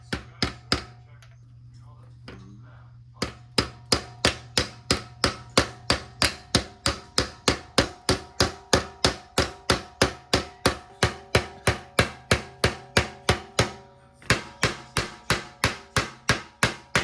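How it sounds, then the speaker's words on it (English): A hammer strikes a socket over and over to drive a pilot bearing into the back of a GM LS 6.0 crankshaft, giving sharp metallic blows in a steady rapid rhythm with a brief pause partway through, loud and close. "we're going to pound this into the back of the crank"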